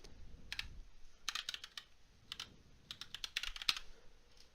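Typing a username and password on a computer keyboard: quiet, close bursts of rapid key clicks in short uneven runs separated by brief pauses, with no talking.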